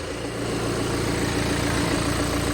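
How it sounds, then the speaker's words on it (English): The 2016 BMW 218d F45 diesel engine idles with a steady, even drone that stays unchanged throughout, heard up close with no voices. "So engine's running,"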